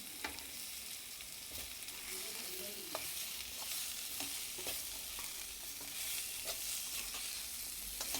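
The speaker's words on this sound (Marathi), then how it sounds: "छान परतून घ्यायचं" Green beans sauté in a pan with crushed peanuts and coriander, giving a close, steady sizzle and frying hiss with scattered scraping clicks of stirring throughout, and no talking.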